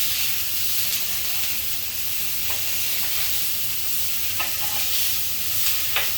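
Salmon pieces, salted and just flipped, sizzle steadily in a hot pan with a constant bright hiss, marked by a few faint clicks and pops over the six seconds.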